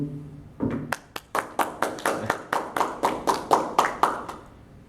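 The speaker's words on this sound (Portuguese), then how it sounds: "Vamos aplaudir." Audience at a university lecture event applauding together, a brief burst of clapping that settles into about a dozen loud, regular, rhythmic claps in unison, close and clear with no talk.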